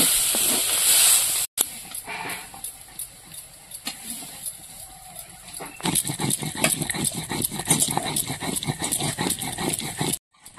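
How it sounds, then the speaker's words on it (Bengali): Kalai greens sizzling in hot oil in a wok, a steady steamy hiss, then a run of rapid scraping strokes as the greens are stirred, close and fairly loud. "শাকটা ভালো করে নাড়াচাড়া দিয়ে শাকটা ভাজা করে নিয়েছি"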